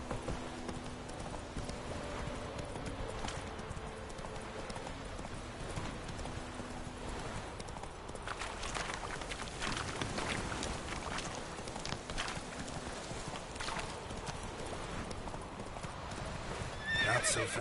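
A horse in a video game trots along with steady clip-clop hoofbeats and lets out neighs and whinnies, moderately close over a soft background, with no talking.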